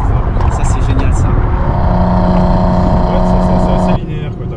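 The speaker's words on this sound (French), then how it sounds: "ça pète à la décélération" A Nissan Skyline R32 running a crackle map roars loudly and steadily up close, its exhaust popping as it comes off throttle, before the engine note drops near the end.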